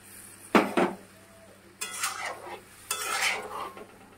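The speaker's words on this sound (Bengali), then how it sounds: "দেখো ভালো করে নেড়ে নেওয়া হচ্ছে" A spoon stirs a watery curry of pointed gourd, soybean, chana dal and egg in a pot in three separate scraping, sloshing bursts, with quiet simmering between them, close by.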